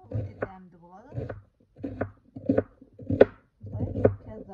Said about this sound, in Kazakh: Осылай пияздарымызды турап шығамыз